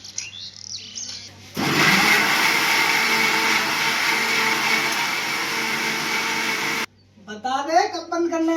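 A kitchen mixer grinder blends salt, chili and spices for pakoras, running as a loud, steady whirring roar for about five seconds before it stops abruptly. People talk briefly before and after it.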